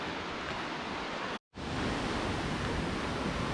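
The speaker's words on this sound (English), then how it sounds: "Okay, so this is the first waterfall." The Pistyll Cain waterfall in Wales roars as a loud, dense, continuous rush of falling water, broken only by one very short dropout in the middle.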